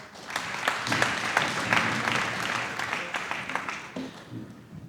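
Audience at a small business development outreach event in the Free State claps in a round of applause, with distinct individual claps within a moderate crowd that thins toward the end.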